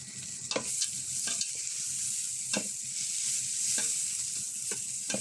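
A spoon scrapes and stirs rice with cloves, cardamom and bay leaves in a cooking pot, giving several distinct strokes over a steady, close sizzle of frying.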